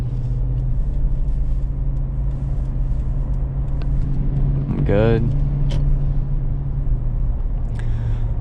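A 2008 Lexus LX 570 cruises along a road with a low, steady engine and road rumble heard from inside the cabin, and a person speaks briefly partway through.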